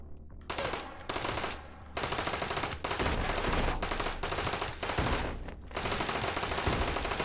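Rapid automatic gunfire in the VR shooter H3VR, loud sustained bursts broken by short pauses, firing close and continuous across the whole stretch.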